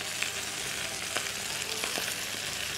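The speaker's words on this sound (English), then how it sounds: "Now the garlic is done, we start putting in spinach." Spinach sizzles and crackles in a hot pan with garlic, a bright steady frying hiss with a few louder pops and stirring sounds, and no one speaking.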